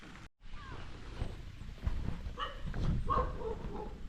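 A dog at a funeral gathering in Sulawesi, Indonesia gives a few short barks and whimpers at moderate distance over background murmur and other activity.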